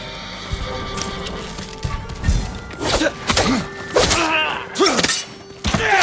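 Samurai horses at the stables in Ghost of Tsushima whinny and neigh in several close, loud calls, with thuds and hoof clops between them.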